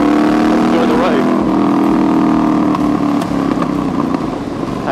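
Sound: Thornton Hundred wide wheel bobber motorcycle riding on the road

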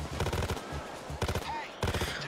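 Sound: gunfire from a rifle in the video game Payday 2

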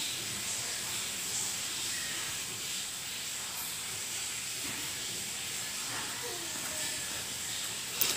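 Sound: lung and intestines sizzling while sautéed in masala

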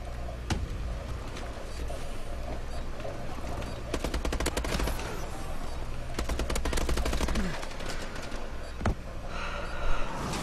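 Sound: gunfire from a gun in the video game Call of Duty

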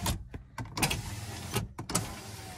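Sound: car power window motor running

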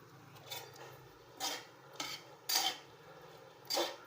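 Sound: stirring ground poha mixture in a pot

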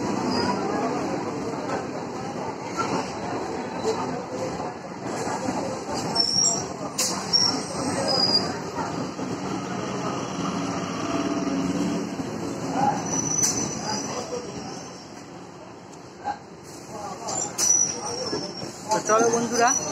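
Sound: Baruipur local train arriving at Baruipur Junction

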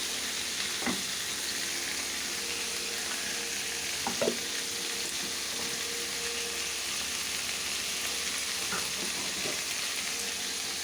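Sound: ginger garlic paste sautéing in a pan

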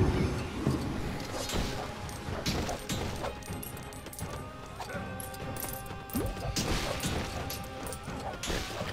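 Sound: objects being smashed in Lego Pirates of the Caribbean video game

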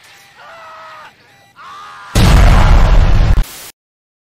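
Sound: explosion sound effect

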